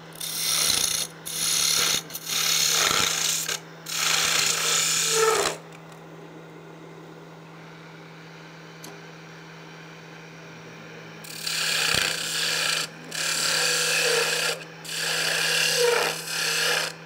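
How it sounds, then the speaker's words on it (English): Wood turned on a new lathe while shaping a hollow sphere: loud, close bursts of scraping tool cuts over a steady motor hum, stopping for a quiet middle stretch before cutting resumes, no talking. "Got to get used to the new lathe, huh?"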